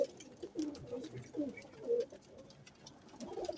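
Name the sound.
Rampuri patha pigeon cooing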